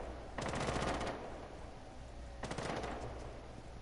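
Two bursts of rapid automatic gunfire in Rainbow Six Siege, the first from about 0.4 to 1.1 s and the second from about 2.4 to 2.9 s, close and loud over steady low game ambience.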